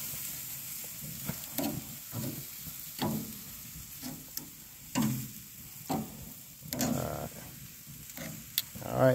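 Ribeye steaks sizzle softly in a pan, a faint steady hiss broken by occasional pops and scraping thumps as they cook, with no speech.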